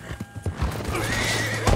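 Horse in Red Dead Redemption 2 letting out a loud, close whinny while hooves clip-clop in a few quick beats, alone with no talk.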